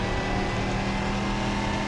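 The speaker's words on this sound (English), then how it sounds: "Just your typical American V8, you know, it's got that muscle car V8 sound" An American V8 muscle-car engine in an Assetto Corsa racing game holds a steady, loud drone throughout, a continuous low rumble without clear rev changes and no talking.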